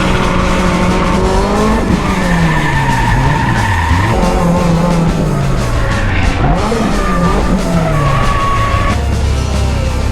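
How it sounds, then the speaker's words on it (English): A drift race car with loud tire squeal and skidding, its engine swooping up and down in pitch as it slides. Close and continuous, with no talk. "Just driving the race car to go get truck parts."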